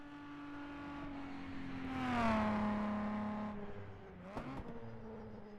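A historic race car on the Isle of Man time trial circuit drives down the final stretch, its engine note rising and swelling as it nears, then falling in pitch as it passes and fades, with a brief sharper burst near the end.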